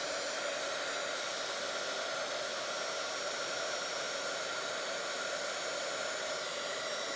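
A crafting heat tool blows a steady, even whoosh of hot air over embossing powder, continuous and fairly quiet without a break.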